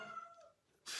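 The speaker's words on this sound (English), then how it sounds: "sorry about the cat noise, by the way" A house cat gives one short, fairly faint meow that wavers and slides downward, followed by a brief hiss of noise, all within a second.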